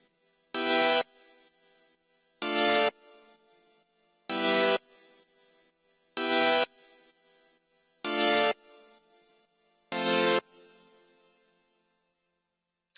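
Six sustained synthesizer chords, each held about half a second, repeating at an even pace with silence between them.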